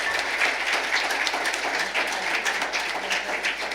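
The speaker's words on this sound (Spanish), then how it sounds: "Un fuerte aplauso al Señor" A church congregation bursts into applause after a prayer, a steady crackling wash of many hands clapping in a hall, moderately loud throughout.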